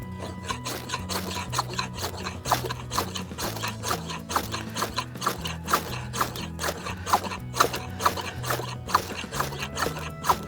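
A bushcraft knife spine rasps over a half-inch ferro rod in a quick, rhythmic series of gritty scraping strikes, steady and close throughout, with no talking over it.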